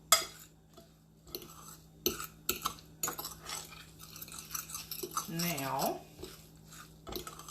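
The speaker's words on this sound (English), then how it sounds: "I'm going to start to stir this together here." A mackerel and garlic mixture stirred and mashed in a bowl, soft irregular scraping and clinks of a utensil against the dish, quiet and close, with a brief spoken word and a faint voice-like tone in the middle.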